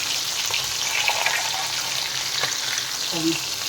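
Valai fish fry in a pan with a dense, close, continuous sizzle and occasional soft stirring sounds, with no talking.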